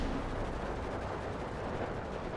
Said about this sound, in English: big artillery shells coming in.